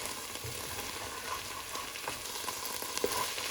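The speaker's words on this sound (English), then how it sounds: "I'm just gonna give my onions a nice little stir" Onions fry in a pot for soup with a soft, steady sizzle, and a few quiet scrapes come as they are stirred. There is no talking.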